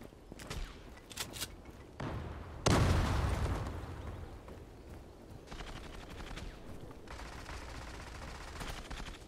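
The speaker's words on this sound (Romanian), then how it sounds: "Dacă vreau să folosesc shotgun-ul." Gunfire in the online shooter game Zula: sharp shots, including one loud blast with a booming tail, followed by scattered bursts of fainter, more distant firing.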